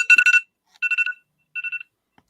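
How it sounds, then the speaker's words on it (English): A phone rings with a short electronic ringtone in three bursts of rapid warbling beeps, the last burst quieter and shorter, heard alone and close. "is that your phone? That's mine."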